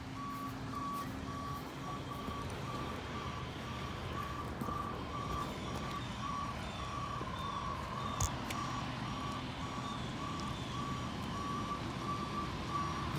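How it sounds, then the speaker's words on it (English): A large tow truck gives steady, evenly spaced reversing beeps over a low engine rumble, continuous and moderately close, with no talk. "Alright, so we got the big truck here."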